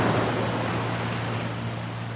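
Ocean waves rolling in with the incoming tide, a broad continuous wash of surf with some wind rumble on the microphone, fairly close and steady, no talking.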